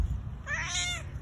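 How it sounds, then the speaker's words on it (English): A single short, whiny meow from a cat outdoors near a garden, close and clear over a low background rumble. "and the whining cat."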